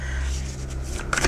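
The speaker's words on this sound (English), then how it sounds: "Spirit's telling me to shuffle again." Tarot cards riffle in a brief shuffle against a low background hum, ending with a sharper flurry of card slaps.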